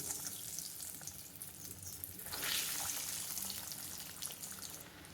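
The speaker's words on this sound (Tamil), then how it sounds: "சூடான எண்ணெயில் இதை ஃப்ரை பண்ணி எடுத்துடலாம்" Semolina-coated egg rolls frying in hot oil, a soft, steady sizzle that swells briefly midway, faint and close.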